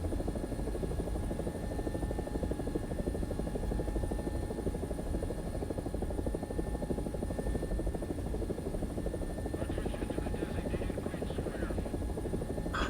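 An AB 205 (Italian UH-1H) helicopter in a combat video game gives a steady, loud rotor thump and turbine whine that runs unbroken throughout, with no voices over it.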